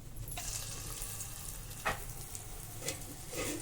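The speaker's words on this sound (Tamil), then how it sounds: "அதில் இருக்க ஒரே ஒரு பீஸ் எடுத்து நம்ம இதில் போட்டு பார்க்கலாம், எண்ணெய் சூடாகிடுச்சா இல்லையான்னு" A small piece of pakoda batter goes into hot oil as a test, giving a soft, steady sizzle with a couple of faint clinks and splashes and no talking.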